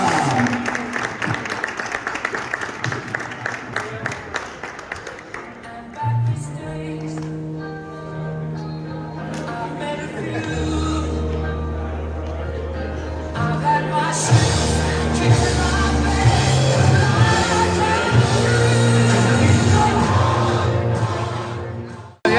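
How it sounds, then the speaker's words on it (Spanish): A crowd at a karting championship race cheers the winner of kart number 10, a few shouts and scattered clapping blending with loud music that carries a strong beat and sustained tones throughout. "Otra fuerte ovación al campeón en el día de hoy con el car número 10, Roberto de la Serna."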